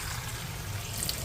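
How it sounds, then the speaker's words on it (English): Hot water pours steadily into a pot of quinoa, a continuous watery rush with no talking. "the water is very hot, and then I'm going to add it to the quinoa"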